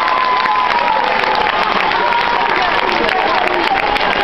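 An audience at a concert on a Miami tour applauds loudly and without a break, a dense wash of clapping that holds at a steady level throughout.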